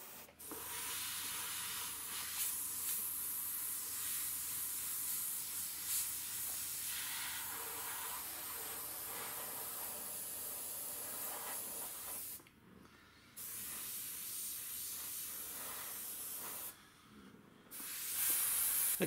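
An airbrush sprays sepia paint through AirShot templates onto a skull, producing a steady, close hiss with two short breaks where the spraying stops.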